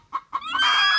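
Chickens clucking close by, two short clucks followed by a rising, drawn-out squawk that holds to the end.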